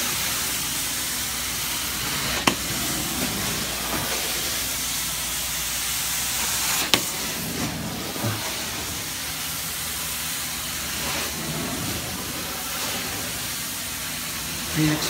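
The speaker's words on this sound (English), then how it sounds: "Steam cleaning, about 230 degrees to 240 degrees." A steady broadband hiss of a steam carpet cleaning machine at about 230 to 240 degrees runs throughout, with a couple of sharp clicks, under occasional faint voices.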